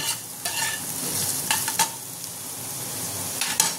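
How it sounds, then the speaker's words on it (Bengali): Watermelon rind frying lightly in oil sizzles steadily, close by, with a few sharp scraping stirs of a utensil against the pan. "এটা বেশি ভাজবো না, হালকা করে ভাজবো।"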